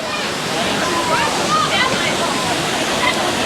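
A waterfall at Minoo Park in Japan pours with a steady, close, broadband rush of water, while a crowd murmurs faintly on a busy public holiday.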